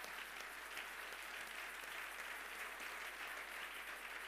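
A church congregation applauds during a Sunday service, a steady sustained clapping from many hands that fills the room evenly throughout.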